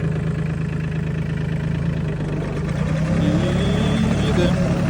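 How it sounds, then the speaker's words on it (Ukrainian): A Solis 26 tractor engine idling steadily with a low, even rumble, loud and close, briefly rising in pitch toward the end. "Дуже приємний звук мотора, спокійно можна без без мікрофона знімати відео."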